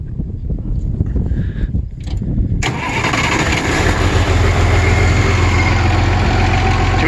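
Old tractor with a .283 Waukesha engine cranking, then catching and settling into a loud, steady idle close by.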